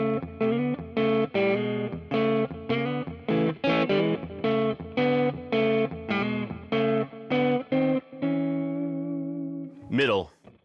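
A Gibson Custom Shop Johnny A. Signature electric guitar on its neck pickup plays a sequence of ringing clean chords in a steady rhythm, ending on a sustained chord and a quick pitch slide.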